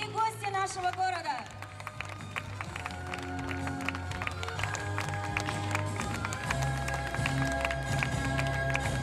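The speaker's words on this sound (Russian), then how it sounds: "вам аплодирует вся площадь" A crowd on a town square in Anapa claps steadily after a brief spoken announcement, scattered hand claps forming a continuous patter while a low musical backing hums underneath.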